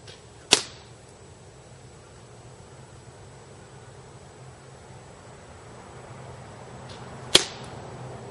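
A Bar-10 airsoft sniper rifle fires twice at a paper target, roughly seven seconds apart. Each shot is a sharp, close snap, followed by a quiet stretch of faint background hiss.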